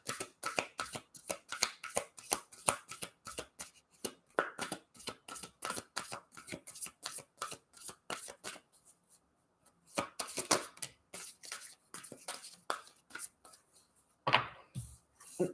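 Oracle cards being shuffled in quick, crisp riffling bursts, close and rhythmic, with a short pause midway before the shuffling resumes.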